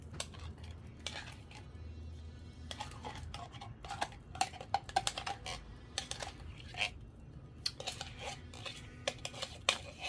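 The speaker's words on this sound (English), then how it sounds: "I'm going to dump it in here." Tomato paste being scooped out of a large can with a utensil and dumped into a stew pot, giving repeated metallic scrapes and clinks at close range with a quiet kitchen hum underneath.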